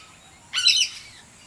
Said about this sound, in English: They're called noisy miners. They're social honey eaters